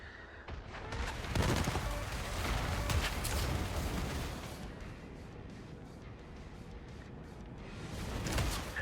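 Missiles launching in the strategy video game Dust Raiders, a dense stretch of rapid, overlapping explosive bursts and rumbling blasts that swells and then eases off, heard alone without talk.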